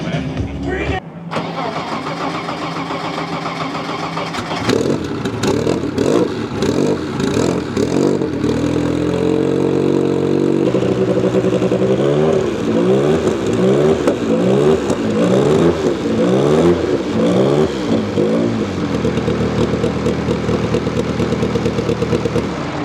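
A Porsche 962 race car engine fires up with a loud start, then revs hard in repeated rising and falling bursts before settling into a rough, throbbing idle, close and very loud, with people talking faintly underneath.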